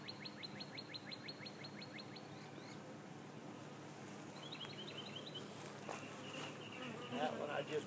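Honeybees buzz steadily around a beehive in an outdoor bee yard near a freshly made nucleus colony, a dense low hum with a few louder bees passing close, no talking.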